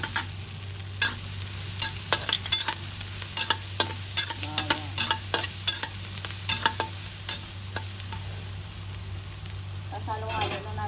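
Oil frying in a pan at the start of cooking pinatisang pata, a steady sizzle under repeated scraping strokes of a stirring utensil at close range, with no talking.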